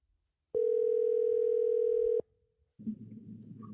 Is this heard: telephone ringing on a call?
yes